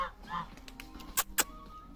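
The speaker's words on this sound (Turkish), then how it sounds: "Evet, bunlar kaz arkadaşlar." Geese in Almaty, Kazakhstan give a few short, sharp honks nearby against faint background noise, with two louder honks near the end.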